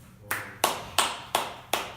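Five sharp, evenly spaced claps ring out at a spiritual lecture, each with a short room echo, quiet and deliberate like a single person or small group clapping in rhythm.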